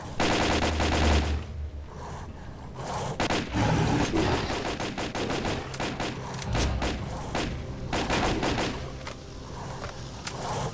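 Gunfire in the video game Stalker: Call of Pripyat, with rapid automatic bursts and single loud shots that come in clusters, close and sharp, plus a few thuds, no voices over it.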